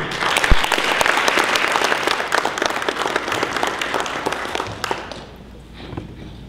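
An awards presentation audience breaks into loud, crisp applause to welcome a speaker, many hands clapping near and dense for about five seconds before dying away quickly into quiet room tone.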